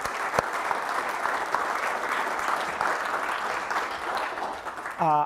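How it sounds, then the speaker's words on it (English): Audience applause during a university speech, a steady wash of clapping from a large hall, continuous and even throughout with a brief voice at the very end. "Give them a big round of applause, my mom and dad."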